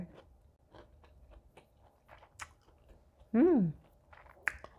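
Close chewing of food with soft crunchy bites and irregular mouth clicks at a meal, plus one short voiced exclamation near the end.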